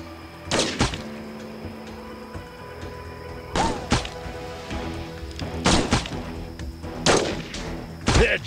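Sniper rifle shots ring out in the mobile shooter game Sniper Arena, a string of sharp, loud cracks in short clusters separated by brief pauses, each with a quick decaying tail.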